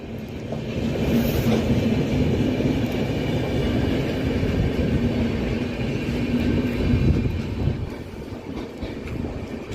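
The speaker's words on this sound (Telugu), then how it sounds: "అది బొకారో ఎక్స్ప్రెస్ కూడా వెళ్ళిపోయింది." Bokaro Express, a diverted express train running through Bhimavaram without stopping, a loud sustained rumble of coaches rolling past close by, easing slightly toward the end.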